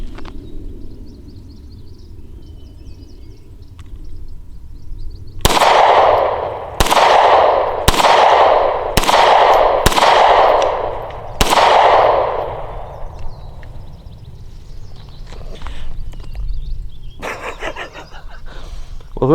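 Six sharp, loud gunshots from a Hi-Point CF380 carbine ring out outdoors at a steady pace of about one per second, each with a short echoing tail, with quiet ambience before and after and a few faint clinks near the end.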